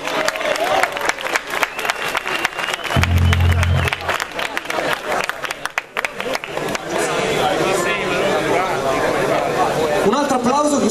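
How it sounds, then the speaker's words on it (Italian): An outdoor concert crowd in Piazza del Rigombo claps and cheers for a band, a dense burst of applause that builds and rolls on. Chatter and a voice on the microphone are heard through it. "Un altro applauso così cominciano"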